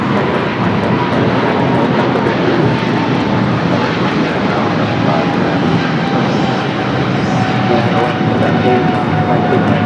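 An American Airlines jet departs runway 25 right at LAX, its loud engine roar broad and sustained throughout, close and powerful with steady rushing noise.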